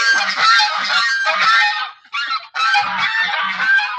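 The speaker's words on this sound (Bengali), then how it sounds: "রাজহাঁস" Geese honk loudly and repeatedly at close range at night, a rapid overlapping series of harsh calls with a brief pause midway.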